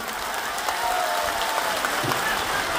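A large crowd claps steadily and densely at an outdoor election campaign rally held in the rain, a continuous wash of applause lasting throughout at close range.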